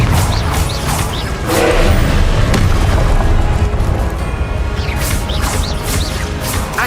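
Fire spell explosions from the Confringo curse in the Hogwarts Legacy video game, a dense run of booming blasts, crashes and whooshes that continues loudly throughout with no pauses.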